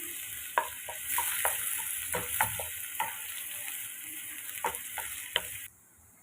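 Onion fries in a pan until golden, a steady close sizzle punctuated by a handful of sharp spoon clicks and scrapes against the pan, alone without voices, ending abruptly.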